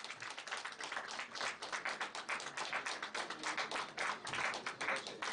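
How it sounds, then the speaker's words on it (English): Audience applause at an international management conference at an institute, dense steady clapping from a crowd, moderately distant and filling the whole stretch without speech. "A huge round of applause, please."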